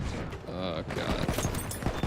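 A weapon is hip-fired from a prone position in the video game Battlefield 1, giving a brief burst of rapid shots mixed with someone talking over the game.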